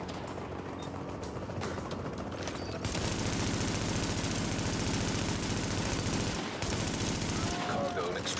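Sustained bursts of automatic gunfire in the video game Tom Clancy's The Division, loud and continuous with dense rapid shots, briefly dipping before resuming, with voices talking over the shooting.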